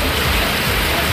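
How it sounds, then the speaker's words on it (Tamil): Heavy rain pours steadily for over a second, a dense, even wash of broadband hiss from drops hitting surfaces, with no voices over it. "ஒரு மணி நேரத்திற்கு மேலாக பலத்த மழை பெய்தது"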